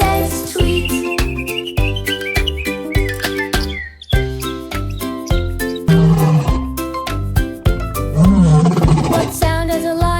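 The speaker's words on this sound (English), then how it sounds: "A lion says roar." A lion gives a loud, strong roar over bright, bouncy background music, with the music's steady beat and melody running throughout.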